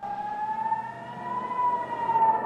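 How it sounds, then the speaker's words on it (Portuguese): Air raid sirens sound across Tel Aviv in a steady, sustained wail that drifts slightly in pitch, carrying loud and unbroken from a distance through the whole stretch with no voices. "as sirenes de ataque aéreo soando por toda a segunda maior cidade de Israel, Tel Aviv, ao longe."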